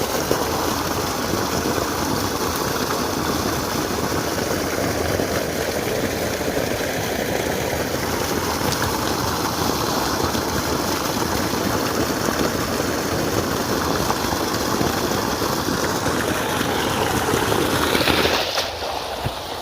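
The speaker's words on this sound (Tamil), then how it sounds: "நீங்கள் கேட்ட இன்ஜின் தண்ணியோட வருதா?" A 3hp BLDC solar motor pumps water from a 25-foot well through a 2.5-inch delivery pipe, a steady, loud, continuous rush of gushing water that runs without a break and ends abruptly.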